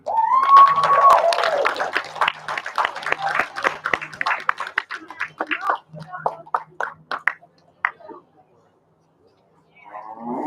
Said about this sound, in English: But go ahead and give them a big round of applause.